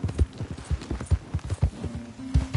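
A horse's hooves clip-clop at a steady trot in Red Dead Redemption 2, close and rhythmic, with no voices.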